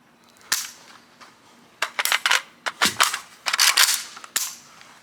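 A standard Tula Bakelite magazine drops out of the tight mag well of an AK rifle during dry-fire practice, giving a close series of sharp metallic clacks and knocks in quick, uneven succession.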